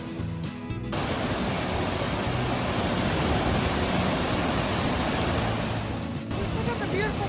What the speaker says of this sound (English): Look at the beautiful waterfall here.